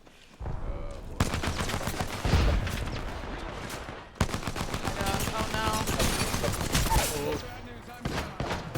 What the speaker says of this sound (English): I'm under fire. Enemy firing at me.